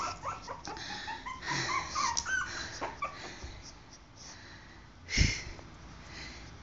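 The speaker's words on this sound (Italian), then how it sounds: "Ai, piange tu, che cucciolino." Puppy whimpering and crying in soft, broken bursts over a few seconds, close and fairly quiet, with one louder yelp-like sound near the end.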